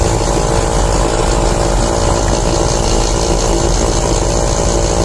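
A car engine converted to run on petrol gas idles close by, a loud, dense, unbroken mechanical rattle and roar that stays constant from start to finish, with no voices.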